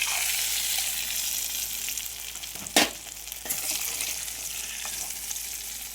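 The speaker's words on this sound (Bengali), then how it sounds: "আলুগুলো কিন্তু একদম হালকা আঁচে ভাজবো।" Potatoes fry in oil over low heat with a steady, even sizzle, broken midway by a sharp scrape as they are stirred and lifted out of the pan.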